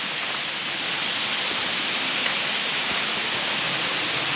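Waterfall at Rock Island State Park, Tennessee, pouring beside a trailside picnic table: a steady, dense rush of falling water, close and loud, unbroken for the whole stretch with no voices.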